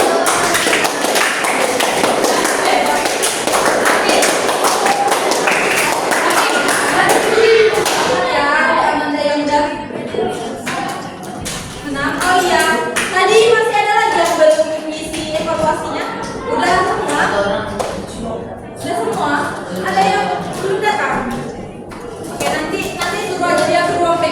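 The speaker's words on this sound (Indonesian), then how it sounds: "Tepuk tangan dulu dong." Children in a classroom clap their hands, a loud burst of rapid overlapping claps at the start that gives way to a teacher and kids talking, with scattered taps continuing underneath.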